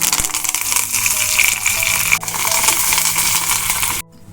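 Tempering spices with garlic sizzle and crackle loudly in hot oil for a Telugu dal dish, a steady dense frying hiss with small pops that cuts off abruptly near the end.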